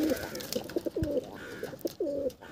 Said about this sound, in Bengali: এটাও নর পায়রা থাকছে।